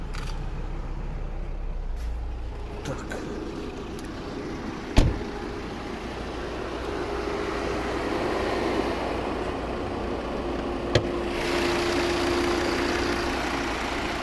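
A 2011 Volvo V60 D3 with a 2.0 diesel engine idles quietly at close range, a low steady hum with a couple of sharp clicks and knocks partway through.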